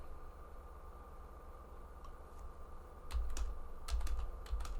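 Computer keys are tapped in two short bursts as numbers are entered while testing a C switch-case program, close and moderately loud over a steady background hum, with no talking.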